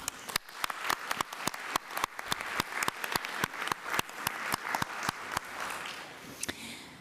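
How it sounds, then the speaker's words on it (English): Applause for academy inductees at a conference session, heard as a small audience's distinct claps in a steady, slightly uneven rhythm that thins out toward the end. "if we can give them a round of applause"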